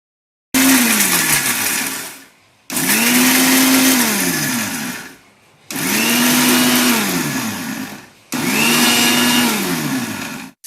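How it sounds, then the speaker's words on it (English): A mixer grinder blends makhana, cashew nuts and cardamom in four loud bursts. Each bursts into a high whirring spin that slows as it winds down, and short silences separate the pulses. "Now please see how I am using the mixer grinder."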